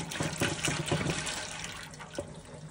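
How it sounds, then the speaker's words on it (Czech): Water drains and splashes through a cleaned Viessmann boiler heat exchanger during servicing, a steady broadband wash with a few louder gushes throughout. "Tak to by ta voda měla úplně bez problémů komplet odtejkat."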